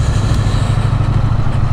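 A 2023 Triumph Bonneville T100 motorcycle engine lugs in third gear with a loud, close, low, chugging pulse of rapid even beats and a faint mechanical clatter on top.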